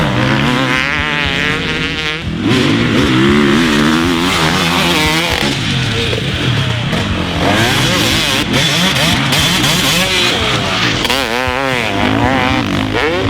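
A stock two-stroke 250 dirt bike engine revs loud and close, its buzzing pitch rising and falling through repeated throttle blips over several seconds.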